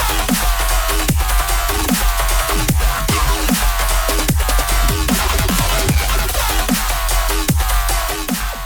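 Two heavy electronic bass tracks layered together in a DJ double drop with no EQ, dense pounding kicks and dropping bass sweeps at a steady tempo, loud and crowded throughout.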